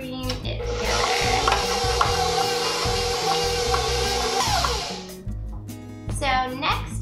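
Butter being creamed for red velvet cake batter gives a steady, loud mechanical whirring that runs for several seconds, then stops and gives way to scattered clatter, with a voice speaking at times.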